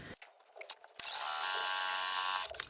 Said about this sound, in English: I'm back at the sewing machine now, and I'm holding on my fabric here.